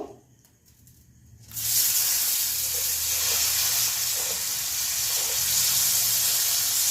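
A bay leaf hits hot oil in a pan while duck egg curry is being made, and after a quiet start a sudden loud sizzle bursts in and keeps hissing steadily.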